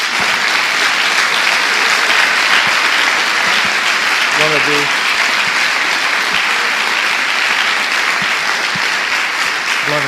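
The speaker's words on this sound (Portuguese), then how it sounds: "Dê uma salva de palmas a Jesus." A church congregation breaks into sustained applause during a sermon, dense continuous clapping filling the space at high volume, with a voice speaking briefly over it.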